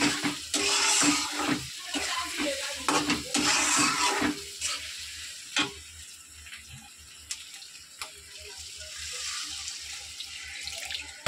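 Water poured into a pan of egg curry on the stove, a loud splashing pour for several seconds, then quieter bubbling and faint sizzling as it settles.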